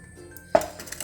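A clay pot is set upside down over a burning coconut shell, making a single short hollow clink against the shell partway through, followed by faint ringing in a quiet room.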